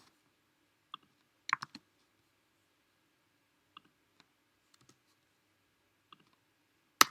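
Scattered keystrokes on a computer keyboard while Python code is typed, sparse clicks in small bursts with long quiet gaps and one louder final tap, close and alone.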